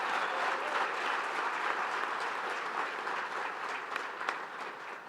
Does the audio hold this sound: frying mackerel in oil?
no